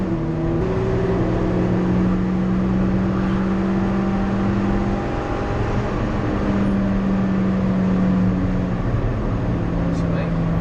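A car driven fast around the Nurburgring, heard from inside as a loud continuous engine drone that rises and falls in pitch through gear changes and corners, with people talking over it.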